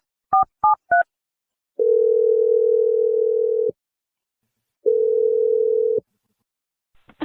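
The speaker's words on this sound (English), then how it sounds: "Let's just dial her phone number and see what she has to say." A phone number is dialed: three quick keypad tones, then two long steady ringback tones separated by silence.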